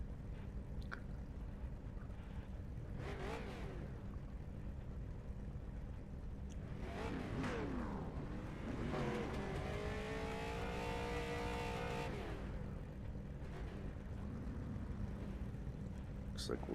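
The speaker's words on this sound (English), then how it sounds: "Driving the Ascension Racing number 4 Ford Thunderbird." A Ford Thunderbird street stock car on the short oval at Langley Speedway in iRacing, its engine droning steadily and rising in pitch as it revs, with other cars' engines nearby and a voice speaking over it.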